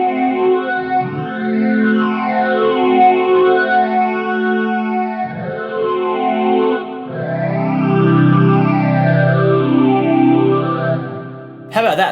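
Layered pad built from BOSS SY-1 synth, PH-3 phaser and Tera Echo pedals, a sustained, swelling synthetic tone with sweeping phaser motion and echo tails, loud and continuous before a short break at the end.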